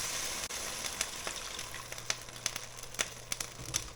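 Stock hits a hot pan of squid ragu with a soft, steady sizzle, scattered pops and crackles breaking through the quiet bubbling close by.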